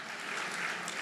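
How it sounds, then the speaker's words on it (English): A short burst of steady audience applause from a crowd at a formal government signing ceremony, a dense, even clatter of many hands throughout. "Let's give a round of applause"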